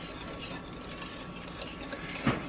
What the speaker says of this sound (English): So I'm just going to whisk this together to incorporate it all.